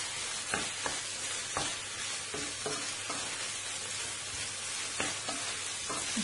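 Chicken breast sizzling and frying steadily in a pan, a continuous close crackle with occasional stirring clicks and scrapes, no talking.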